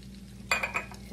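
Flour is stirred into half a stick of melted butter in a pan, making a short run of three or four scraping, clinking strokes over a steady low hum, with no voices.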